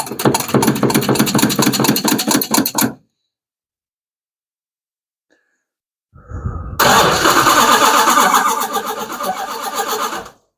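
A Hemi-powered Plymouth Duster engine cranks and roars loudly for about three seconds, cuts out into silence, then a faint tick before it cranks and fires again into a loud, rough sustained run to the end.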